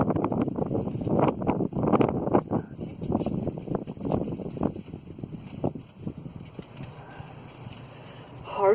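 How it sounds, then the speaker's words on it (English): Strong, gusty hurricane wind (Hurricane Brian) buffets the microphone outdoors during a brake pad replacement on a 2001 Toyota Yaris, a constant low roar with swelling gusts and muffled bursts throughout. "so that's why there's like strong wind."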